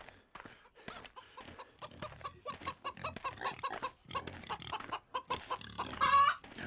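Chickens and roosters cluck in a farmyard in the Wild West Dynasty video game, a scatter of short, clipped calls layered over one another, ending in a louder, longer squawk.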